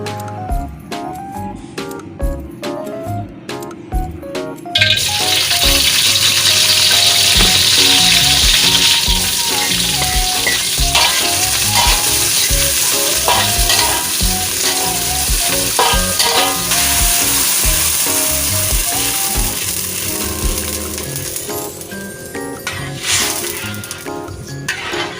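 Ingredients for sayur gedi frying in a pan, starting with sparse crackling and scraping, then a loud dense sizzle that swells at about five seconds and carries on with stirring and spatula scrapes, close and without speech.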